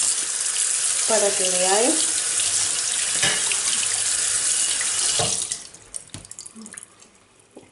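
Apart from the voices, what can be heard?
rinsing dishes under running tap water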